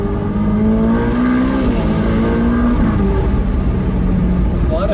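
A 2020 Ferrari F8 Tributo Spider with a turbocharged engine accelerating, a loud droning engine note that climbs steadily in pitch, then dips and climbs again beneath someone talking throughout.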